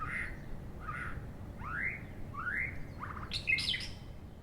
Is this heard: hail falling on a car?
no